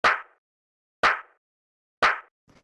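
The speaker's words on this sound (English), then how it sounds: "Next thing I'll show you is the clap." A lo-fi house clap sample with an organic texture hits three times at steady one-second intervals, each a crisp, fairly loud burst with a short tail, heard alone.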